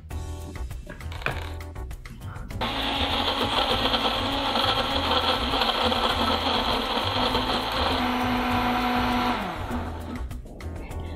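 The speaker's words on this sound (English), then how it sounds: "I already done blending my ingredients for at least 1 minute" A kitchen blender whirs steadily for several seconds, blending kimchi sauce ingredients, loud and close, starting abruptly and cutting off near the end.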